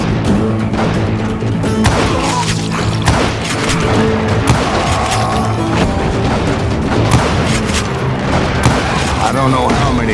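Gunfire in Call of Juarez: Gunslinger, a loud, dense western shootout with rapid overlapping shots and booming impacts under a constant game score, while voices shout in the background.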